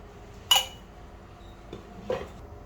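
Pressure cooker being handled on a kitchen stove while cooking: two metallic clanks of the pot, one sharp and one softer, about one and a half seconds apart, over quiet room tone.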